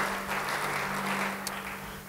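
Church congregation applauding during a sermon, a soft, steady wash of clapping over a low hum, fairly distant and even throughout.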